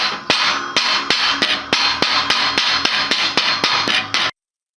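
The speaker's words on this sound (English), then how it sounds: "the way I like to start bearings is by tapping them in with a rubber mallet" A rubber mallet taps a pressed-type bearing into its housing, about a dozen sharp, evenly spaced close knocks in a steady rhythm, then sudden silence.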